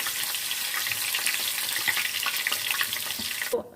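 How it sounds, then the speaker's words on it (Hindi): Grated garlic and ginger sizzle in hot oil in a pan, a dense steady hiss with small crackles, close up, ending abruptly. "अदरक और लहसुन को हमने फ्राई कर लिया है 1 मिनट के लिए।"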